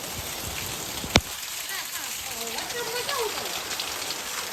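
Steady rain falls outdoors on surfaces as a dense, continuous patter, fairly loud and close, with one sharp knock early on and people talking faintly underneath.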